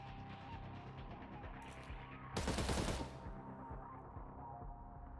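A loud burst of automatic gunfire in the video game Cyber Knights: Flashpoint, several rapid shots fired over a steady din of in-game ambience and music, then fading back into the background.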